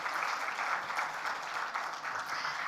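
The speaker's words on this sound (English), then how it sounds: "Can we give them a huge round of applause for the time and effort?" An audience at an award gala in Nepal applauds steadily, a crowd of hands clapping in a dense, even roar that holds from start to finish.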